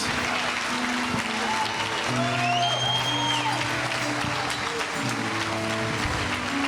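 Church congregation applauding during a Portuguese-language worship service, a steady wash of clapping over sustained keyboard and organ chords with brief tonal lines above.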